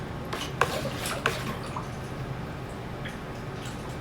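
A rockwool soaking solution being mixed in a container, with a couple of sharp clinks of a utensil against the side early on, then soft liquid swishing and stirring, fairly quiet and close.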